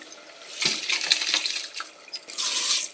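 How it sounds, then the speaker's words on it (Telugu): Ordinary half-boiled rice is tipped into a pot of boiling water for chicken biryani, a close burst of pattering, clinking grains and watery splashes lasting a couple of seconds, with no talking. "ఇప్పుడు రైస్ వేసేసుకుందామండి"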